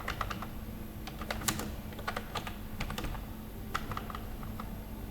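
Someone types a database insert query on a computer keyboard, heard as quick, steady key clicks and taps in uneven bursts, close and moderately loud, with no talk.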